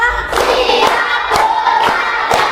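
Primary school pupils clap in unison during a counted classroom clapping game, several crisp group claps falling at a steady beat while children's voices carry on underneath.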